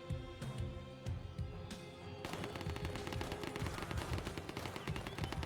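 Video game gunfire rattles in dense, continuous automatic bursts, quieter at first and then a sustained barrage of rapid shots, with faint speech mixed in early.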